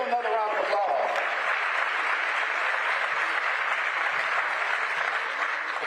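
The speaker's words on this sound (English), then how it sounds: "Give them another round of applause." An audience applauding steadily for several seconds, dense and continuous clapping with a brief voice at the start.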